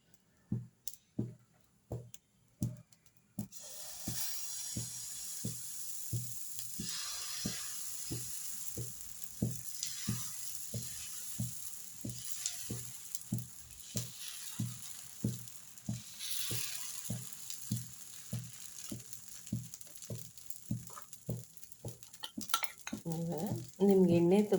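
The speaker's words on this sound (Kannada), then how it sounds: "ಅದು ದೋಸೆ ಹಾಕೋಣ ಇವಾಗ" Tomato dosa batter made from leftover dosa batter hits a hot pan and sizzles steadily, with a rapid regular ticking of stirring or spreading close by throughout and a louder burst near the end.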